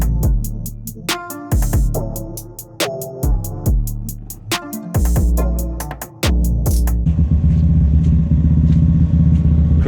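Road-racing motorcycles at Aberdare Park, a field-based circuit, roar loudly and close, revving hard with rapid rising gear-change sweeps before settling into a sustained, dense engine drone.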